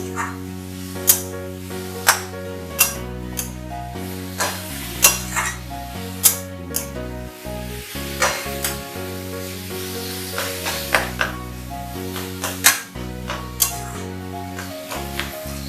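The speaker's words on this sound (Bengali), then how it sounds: "দেখো এখানে আমি এটাকে ভালো করে মিশিয়ে নিচ্ছি।" Coconut relish ingredients are stirred in a bowl, giving repeated clinks and scrapes of a utensil against the bowl, with a steady tonal hum or music running beneath throughout.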